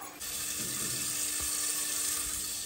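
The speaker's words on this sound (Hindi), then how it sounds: "ये पानी का आवाज कहाँ से आ रहा है? मैंने तो बर्तन धो के नल बंद कर दिया था।" Water runs steadily from a tap left open at a home sink, a constant loud hiss with faint clinks near the start, alone without voices.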